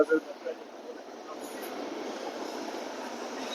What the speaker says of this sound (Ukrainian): А знову трамвай. Львівський старенький трамвай